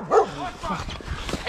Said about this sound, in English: You gotta get control of these fucking dogs.